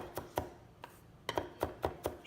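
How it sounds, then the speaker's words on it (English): A knife rocks back and forth mincing parsley on a cutting board, striking in a quick uneven series of about ten crisp, close taps with quiet gaps, no talking. "Hold the top of the blade down on the board and move the back in a rocking motion across the parsley, back and forth like so."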